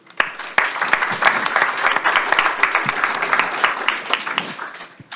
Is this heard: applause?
yes